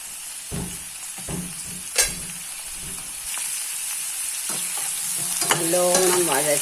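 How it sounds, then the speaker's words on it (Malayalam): Green chilli and ginger being sautéed in a pan for raw tomato chutney, a soft steady sizzle broken by repeated scraping stirs, with a sharper burst of frying toward the end. "നല്ലോണം വഴറ്റണം."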